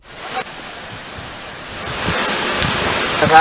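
A stream swollen by heavy rain near Parigi on the Vikarabad road in Telangana, rushing water making a steady, loud roar that builds slightly over a few seconds, with no voices.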